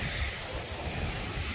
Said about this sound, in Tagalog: Bumigay talaga yung lakas ng hangin.